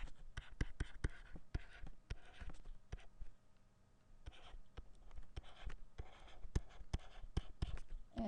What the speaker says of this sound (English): I'm going to just write this.